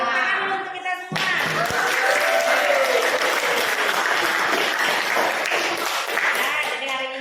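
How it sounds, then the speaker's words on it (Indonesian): A class of schoolchildren bursts into applause after a lesson, loud, lively clapping that swells after a brief spoken opening and continues with crowd noise and voices mixed in. "Ayo tepuk tangan dulu untuk kita semua."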